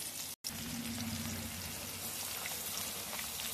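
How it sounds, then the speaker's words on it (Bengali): Black cumin seeds and green chillies sizzle in hot oil in a pan, a dense, steady crackling hiss that carries on almost unbroken after a brief silent gap near the start. "এবার দিয়ে দিলাম কালো জিরে, কাঁচা লঙ্কা ফোড়ন দিলাম।"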